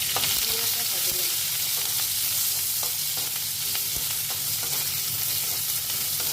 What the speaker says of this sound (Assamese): পিঁয়াজ আৰু জলকীয়াখিনি দি ধুনীয়াকৈ ভাজি ল'ম।